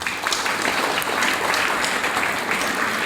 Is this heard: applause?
yes